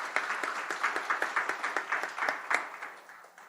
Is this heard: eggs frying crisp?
no